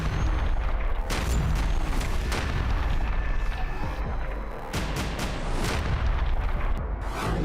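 Indian Army anti-tank weapons fire during a training exercise near the China border, sending a string of loud, sharp blasts and booms over a heavy rolling rumble, with no talking.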